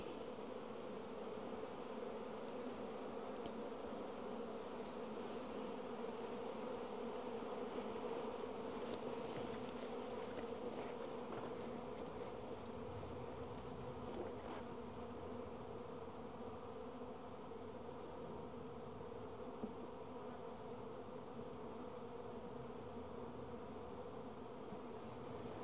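Honeybees buzz around their colony during hive work, a dense, continuous hum of many insects close by, steady and unbroken throughout with no talk.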